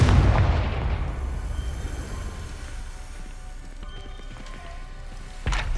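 A Confringo fire spell explodes in Hogwarts Legacy with a heavy, booming blast that rumbles and fades over several seconds, followed by a second impact near the end.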